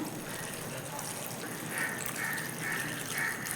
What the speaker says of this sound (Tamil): சேர்த்து தண்ணி ஊற்றிக்கலாம்